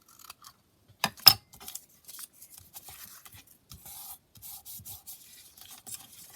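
Scissors snip and rub through craft material in a few sharp cuts, followed by scattered soft scraping and handling noises, close and fairly quiet.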